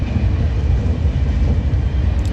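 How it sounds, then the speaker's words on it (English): Inside a TGV high-speed train running through Europe, a loud, steady low rumble and rolling roar of the carriage fills the space continuously, with no talking. "I must say, this train is really nice."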